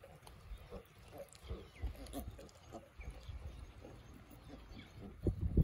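Pigs feeding on whole fish carcasses at a campsite on New Zealand's North Island, giving low, irregular snorts and grunts close by, rising to louder snuffling bursts near the end.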